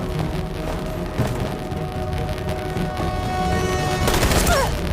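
Gunfire in the video game Detroit: Become Human, aboard a ship about to explode: scattered shots and booms crackle over a dense, steady rumble of game noise, growing a little louder toward the end.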